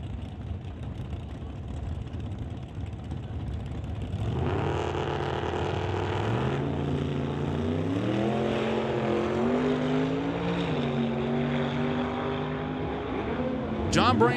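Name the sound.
drag race, Performance Auto Camaro versus Quality Racing Duster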